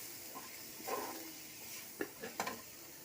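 Spice masala is sautéed in oil in a pan for sambar, giving a soft continuous sizzle with a few scraping stirs and light clinks of a spoon against the pan, heard close up and without talk.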